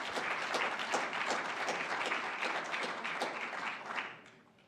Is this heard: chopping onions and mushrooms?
no